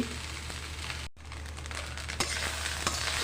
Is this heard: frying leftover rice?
yes